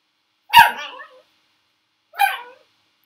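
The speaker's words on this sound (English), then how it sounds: "The dog has decided to bark." A dog barks twice in a quiet room, one sharp bark followed by a softer one about a second and a half later, with no talk over it.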